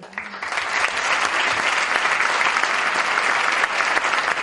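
Loud, sustained applause from a theatre audience at a band's 25th anniversary concert, a dense steady wash of clapping that swells in within the first half second and holds evenly to the end.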